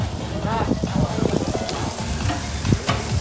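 Steak sizzling and frying in a restaurant kitchen, a dense continuous crackle with scattered sharper pops and stirring, recorded close and fairly loud, with people talking nearby in the background.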